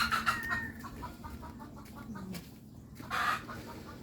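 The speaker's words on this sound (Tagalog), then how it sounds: "Ito yan ang inahin." A hen clucks in a series of short, close, rhythmic calls on a farm, with a louder, sharper squawk near the end.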